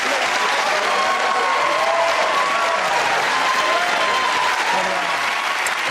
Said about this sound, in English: So, cheers and applause to our winners,